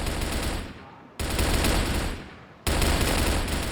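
Gunfire in a CrossFire esports quarter-final match, with shots fired through a window: dense, loud bursts of automatic fire in three sustained stretches split by abrupt cuts, with a caster's voice faintly underneath.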